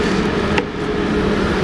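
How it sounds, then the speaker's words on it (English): A loud, steady engine drone from a Toyota truck running inside a shop with the door closed, constant throughout with a low rumbling hum. "we have a car running inside the shop with the door closed"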